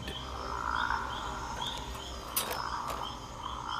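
A male rocket frog, an endangered species, calls with short repeated chirping croaks over a dense bed of other frogs and insects in a lush wet habitat.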